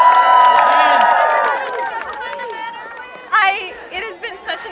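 A crowd at an outdoor climate strike rally cheers and shouts, with the voices fading into lighter applause and chatter, and a few louder whoops near the end.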